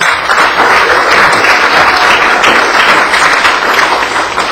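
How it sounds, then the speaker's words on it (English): Loud, sustained audience applause fills the room after children perform on stage at a church event, a dense steady wash of clapping with no pauses. "How about a round of applause for that?"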